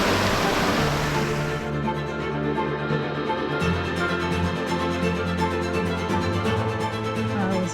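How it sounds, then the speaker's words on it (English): A fresh river fed by waterfalls and glaciers in Lauterbrunnen, Switzerland, rushes in a loud, steady broadband roar that never lets up, with no voices. "And this river is from all the falls and of course the glaciers."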